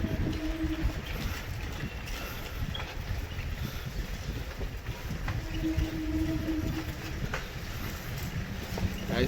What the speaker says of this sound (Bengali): আমার ট্রেনও ঢুকে গেছে,